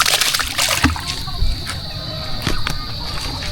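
Water poured and splashing into a fishpond, a close, uneven splatter and trickle that carries on throughout the clip.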